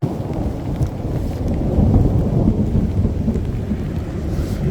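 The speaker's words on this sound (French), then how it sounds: "il fait orage. Il pleut." A thunderstorm rumbles with steady heavy rain, a loud, dense low roar that swells and holds, heard around a vehicle near a wooden church in Warsaw.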